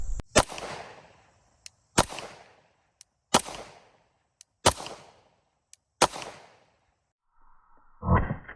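A semi-automatic handgun fires five sharp, loud shots at an even pace about a second and a half apart, each followed by a short echoing tail.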